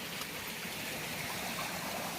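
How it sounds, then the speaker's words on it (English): Bowers Creek, a backcountry stream in the Mendocino area, flows in a steady, even wash of running water heard close by, with no voices. "I believe this is Bowers Creek."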